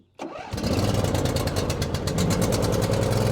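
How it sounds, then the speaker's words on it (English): A John Deere Z425 riding mower engine cranks briefly, catches and settles into a loud, steady idle close by, with no talking. "We're going to go ahead and crank it up until it starts."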